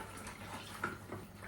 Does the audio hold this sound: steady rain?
no